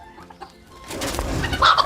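Brief, close clucking from roosters, soft at first then a louder burst of agitated fowl noise near the end.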